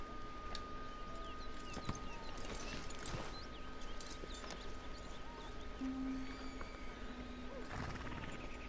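Horse hooves clip-clop in Red Dead Redemption 2 over a low, steady ambient game background, the irregular hoofbeats faint and scattered with occasional sharper knocks, alone without talk.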